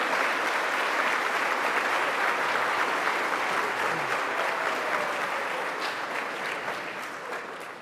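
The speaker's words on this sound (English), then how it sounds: "Let's give a round of applause for all of them." A crowd applauds at a governor's budget announcement event, dense sustained clapping at full volume from a large audience that stays strong before easing slightly toward the end.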